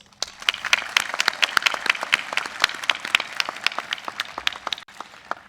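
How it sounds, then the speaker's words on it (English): Graduation audience at a high school ceremony applauds the valedictorians, a steady burst of sharp claps that stays loud and dense for several seconds before stopping abruptly near the end. "please give a round of applause for my fellow valedictorians, Neve Edwards and Vanessa Rose"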